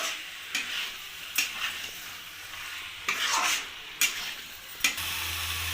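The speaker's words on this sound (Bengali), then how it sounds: "এবার ভালোভাবে কষিয়ে নেব চিকেনটাকে।" Country chicken with peas and coriander stirred and sautéed with spices in a wok, a steady sizzle broken by repeated scraping strokes of the spatula at close range, with no voices.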